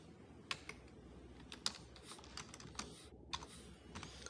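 Steady typing of C# code on a computer keyboard, a run of soft, close key taps with a few louder strikes over a low background hum.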